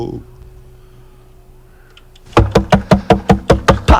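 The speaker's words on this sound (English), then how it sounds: "As soon as I heard the knock" A series of about nine sharp, evenly spaced knocks on a door, loud and close, starting after a stretch of near silence.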